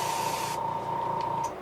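An Iwata HPCS airbrush running at about 17 psi sprays pink paint onto a custom fishing lure, giving a steady close hiss with a thin high whine through the brief stretch and no talk.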